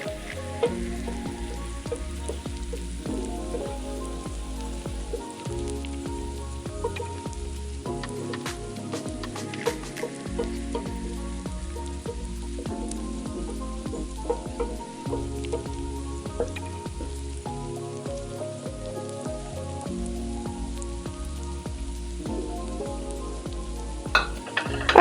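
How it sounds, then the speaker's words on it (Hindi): Tomatoes sizzle and fry steadily in a pan for an arbi aloo dish, a continuous close crackling hiss with occasional stirring clicks, no talking. "इसको थोड़ी देर पकाएंगे जब तक टमाटर गल के बिल्कुल मैश नहीं हो जाते"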